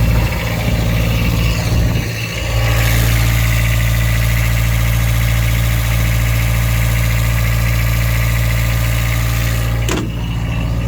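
A Mitsubishi MXR35 diesel excavator engine running at a steady, even idle, loud and close, with a brief dip in revs near the start and again near the end.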